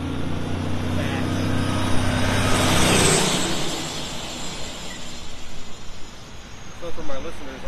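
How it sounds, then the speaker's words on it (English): A loud truck roars right past close by on a road, swelling to a peak then fading away over several seconds. "That was still a really loud truck that went right by me."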